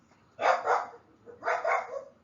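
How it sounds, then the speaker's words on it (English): A dog barks twice, two close, fairly loud outbursts about a second apart, each with a pair of quick yaps, heard indoors with no talking. "That's my dog."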